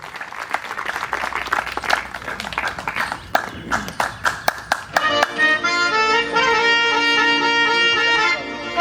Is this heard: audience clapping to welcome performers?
yes